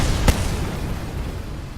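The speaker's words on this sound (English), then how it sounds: "You wanted explosions." Rocket explodes in Kerbal Space Program: one short sharp blast near the start, followed by a low fading rumble, no talking.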